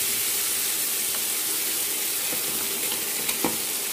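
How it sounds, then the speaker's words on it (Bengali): Chopped onion sizzling with cumin in leftover fish oil in a pan, a continuous bright crackle with a few sharper pops and stirring clicks near the end. "পেঁয়াজ কুচিটা দিয়ে দিলাম, পেঁয়াজটা একটুখানি লাল লাল হবে"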